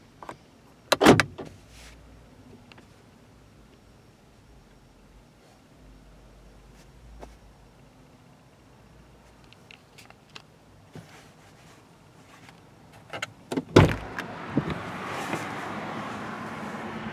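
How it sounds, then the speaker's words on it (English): Power door locks on the passenger side of a 2016 Jeep Wrangler Unlimited Sahara clunk in two sharp mechanical bursts, one early and one near the end, with quiet interior hush in between. "You do also have power door locks on the passenger side."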